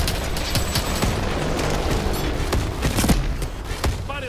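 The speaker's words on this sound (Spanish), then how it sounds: "Dispare otra vez. Disparos por la derecha." Gunfire rattles through a firefight in the video game Call of Duty Advanced Warfare, dense bursts and sharp cracks with booming impacts, loud and continuous across the scene.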